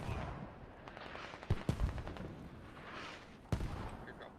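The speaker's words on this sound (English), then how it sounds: "Oh, those are enemy mortars now." Enemy mortar rounds from a Squad match land in a few sharp, fairly distant thumps, spaced out over a low battlefield rumble, with scattered smaller shots in between.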